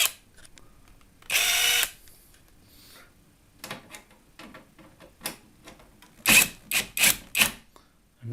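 A power drill works the screws loose from the trim of a Hollywood 1 floor-standing CD jukebox, with a long loud whir near the start and a run of short, sharp bursts toward the end, close by and with no talk.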